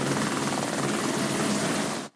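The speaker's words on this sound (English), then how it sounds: "2 choppers based at Albury Airport are contracted to help the Rural Fire Service" A firefighting helicopter based at Albury Airport, contracted to the Rural Fire Service, flies over border bushland, its rotor and engine roar loud and constant before cutting off abruptly at the end.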